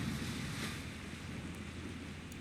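Spacecraft hull splashing down into the ocean in Kerbal Space Program, heard as a steady broadband wash of surf and wind-like rushing that fills the whole moment at moderate, even loudness with no voices.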